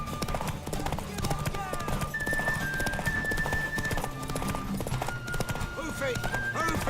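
A horse's hooves clip-clop steadily in The Witcher 3, rhythmic close hoofbeats running throughout, with a voice talking over them and a whinny-like tone in places.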